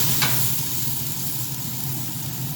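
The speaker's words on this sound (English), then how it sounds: "Oh yeah, those are sizzling up real nice." Smash burger patties sizzle on a Green Mountain Grill griddle, a steady close broadband hiss with a low rumble beneath, continuous and even throughout with no talking.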